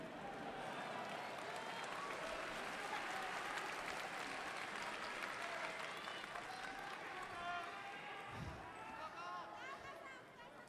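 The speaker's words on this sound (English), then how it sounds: "The crowd obviously cheers back." Arena crowd roaring and cheering at an MMA fight between Roberto de Souza and Satoru Kitaoka, a dense sustained wall of noise lasting throughout with a brief low thump near the end.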